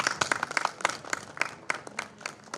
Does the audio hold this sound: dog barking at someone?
no